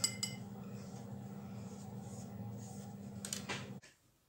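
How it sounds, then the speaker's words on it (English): A homemade room spray mixture being stirred in a container, with soft clinking and scraping over a low hum, close and quiet, ending in a sharper clink before it stops. "I'm going to give that a really good stir around"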